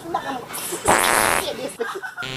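A loud, drawn-out fart erupts at close range, sounding for about half a second between bursts of nearby talk and what sounds like a voice.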